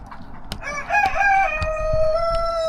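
A rooster crows loudly and close inside a chicken coop, one drawn-out call over scattered clucks and shuffling of hens and roosters.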